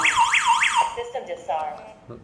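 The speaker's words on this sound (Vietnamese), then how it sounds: "người nhà mình chỉ cần ấn cái nút này đó là nó sẽ báo động" A DIGOO DG-HAMA home security alarm set off by its SOS button gives three loud rising-and-falling siren sweeps, then cuts out into quieter tones and beeps from the unit.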